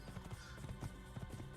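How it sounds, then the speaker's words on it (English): Horse hooves clip-clopping on rock in the video game Assassin's Creed, heard as a quiet, uneven series of short hard clacks against a steady game background. "the short click clack of the horse's shoes"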